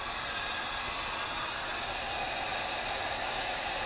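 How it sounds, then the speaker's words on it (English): A heat gun shrinks heat-shrink tubing over a wired connection on a drum project, giving a steady, close, broadband blowing hiss that holds level throughout. "use my heat gun to shrink it up."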